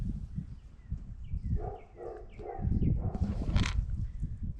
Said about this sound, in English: Benny, you got the dogs barking over here.